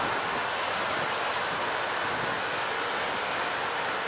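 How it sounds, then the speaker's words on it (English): Hurricane wind roaring through a hotel passage at the Rosen Inn Lake Buena Vista in Orlando, a steady loud broadband rush that holds unbroken, close and without voices. "Oh, this is a wind tunnel."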